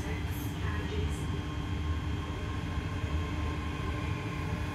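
A Class 385 electric multiple unit running toward Edinburgh Waverley gives off a steady traction motor drone with a faint whine on top, heard from inside the carriage as an even, continuous hum.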